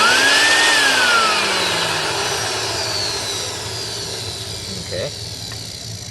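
The motor of a 1980 Electrolux Olympia One 1401-B vacuum whines loudly and steadily, then its pitch sinks as it slowly winds down, with a brief word spoken over it.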